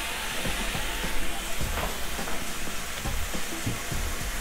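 Bison burgers sear in a hot cast iron pan over medium heat, giving a dense, even sizzle with scattered pops and crackles that carries steadily throughout at close range.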